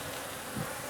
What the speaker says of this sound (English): this frame's got a decent amount of bees on it, but they're just not doing much